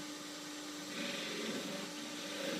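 A wood lathe spins a turned stool while a tool parts it off, giving a steady whirring hiss of cutting that grows slightly rougher partway through, heard close with no voices.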